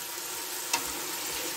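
Carrots, tomatoes and peppers fry in oil in a pan for a soup dressing, a steady close sizzling hiss with one brief click partway through and no voices.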